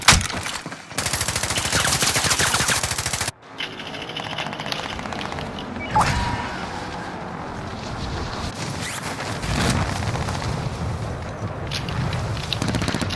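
Rapid bursts of automatic gunfire from incoming rounds in the Call of Duty: Modern Warfare video game, a loud sustained rattling stretch at the start, then a short break and further rattling shots with game noise.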